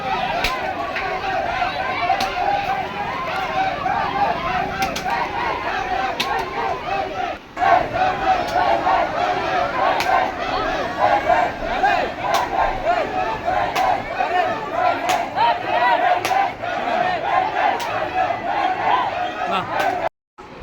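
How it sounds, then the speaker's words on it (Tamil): A large crowd of Murugan devotees at Tiruchendur temple chants and shouts without a break, a dense and loud mass of voices with rhythmic swells that goes on the whole time, broken only by a brief dip. "அந்த வேல்ன்ற பக்தர்களோட சத்தம் உங்களுக்கு நல்லாவே கேட்டிருக்குன்னு நான் நம்புகிறேன்"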